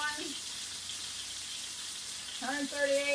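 Hamburger meat with squash fries in a pan with a steady, even sizzle throughout, joined near the end by a person speaking over it.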